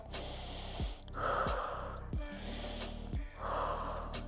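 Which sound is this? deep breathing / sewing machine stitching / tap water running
deep breathing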